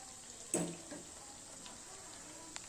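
A pan on a stove turned down to a low simmer gives a faint, steady hiss, with one brief louder splutter near the start and a small pop toward the end.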